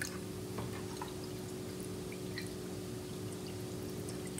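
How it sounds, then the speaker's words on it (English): Water pours steadily into a small model flushing toilet, trickling through the overflow tube into the bowl, a faint, continuous splashing and dribbling with a low background hum. "as we pour more water, it's going to flow into the overflow tube"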